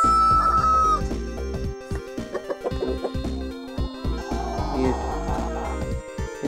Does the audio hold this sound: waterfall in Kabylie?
no